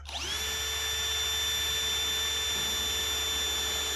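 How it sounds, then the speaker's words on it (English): A power drill pre-drills a cedar fence picket, spinning up quickly to a steady, loud whine that holds unbroken over a low hum for the full length. "But you want to pre-drill so you don't split your fence picket."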